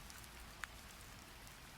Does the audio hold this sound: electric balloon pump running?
no